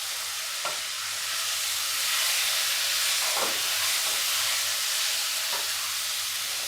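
Spices and Kashmiri chili fry in a pan for matar ghugni, giving a loud steady sizzle and hiss throughout, broken by three spatula stirs spaced a few seconds apart.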